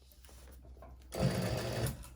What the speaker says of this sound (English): So I'm going to baste this using about 1/8 of an inch seam allowance.